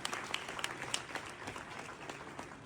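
Applause at a wedding after a call to acclaim the Lord, a steady crowd of hands clapping at moderate distance, fairly soft and continuous with a few sharper individual claps standing out.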